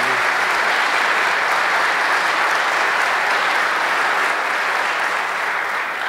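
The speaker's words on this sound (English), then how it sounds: "Let's give a round of applause" Sustained applause from a large audience at a men's conference in a parish setting, a dense, even wash of clapping lasting the full stretch without pause.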